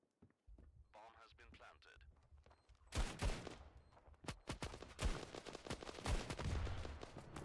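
Bursts of rapid gunfire in the video game Standoff 2 crackle and pop in quick volleys, with a voice speaking quietly before the shooting starts.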